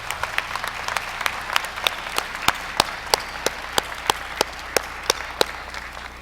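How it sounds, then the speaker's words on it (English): Crowd at a law school graduation ceremony applauds two professors, dense steady clapping with one clap sharply louder and close, repeating at regular intervals. "let's give a round of applause to Professors Acevedo and Cross"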